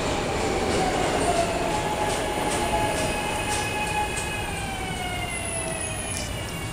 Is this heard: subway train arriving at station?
yes